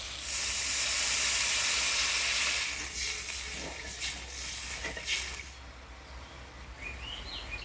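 A loud burst of steam and hissing sizzle as water is poured onto fried spice paste in a pan for a boal fish jhal, fading to a softer bubbling simmer, with faint birds chirping in the background.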